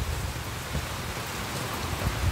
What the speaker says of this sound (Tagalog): ang lakas na naman ng ulan at saka yung hangin